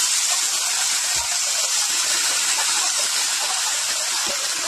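Curry leaves and sesame seeds hit hot oil on a tawa and set off a loud, dense, continuous hissing sizzle that stays constant and close throughout, with no speech.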